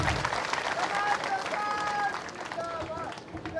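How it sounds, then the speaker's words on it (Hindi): Crowd applause welcoming Dr Raman Singh at a political gathering, a steady wash of clapping over roughly four seconds with faint overlapping voices and some tonal sounds mixed in. "ताली बजा करके डॉक्टर रमन सिंह का स्वागत करें"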